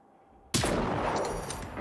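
After a brief quiet moment, one loud, sharp sniper rifle shot cracks in the video game Generation Zero, followed by a long, rumbling echo that fades out.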